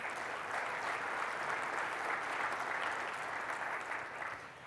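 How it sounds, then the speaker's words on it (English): Sustained applause from a conference audience, a dense steady patter of many hands that stays even throughout and tapers slightly at the very end. "We give them a round of applause."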